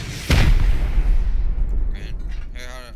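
A rocket explodes during a base raid in the video game Rust, a sharp, heavy boom followed by a rumbling decay, with a voice speaking faintly toward the end.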